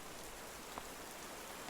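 Rain pours steadily in Miss Clue and the Secret of the Haunted Garden, a dense continuous wash of droplets on surfaces at moderate volume, with a faint tick or two and no voices.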